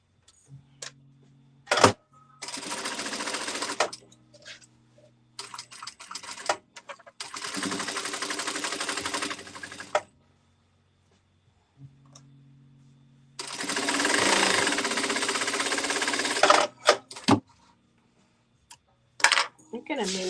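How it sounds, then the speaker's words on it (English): A sewing machine stitches a table runner in several loud, close bursts of rapid mechanical whirring, separated by pauses with clicks and handling noises. "So now I'm going to go ahead and sew this one"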